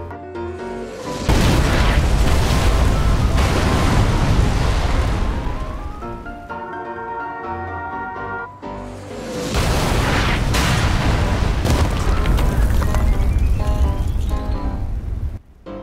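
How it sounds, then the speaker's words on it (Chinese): Missiles strike buildings in a bombing zone on the Karakin map in PUBG, loud rumbling blasts that roll into one another, then a short lull of debris and rattling before another sustained barrage of booming explosions. "新型轰炸区将会是三颗导弹从天而降，命中的建筑会被摧毁"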